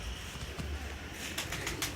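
Pigeons in a loft fitted with perches, giving soft low coos across a steady murmur of birds, with a few faint chirps and wing stirrings nearby.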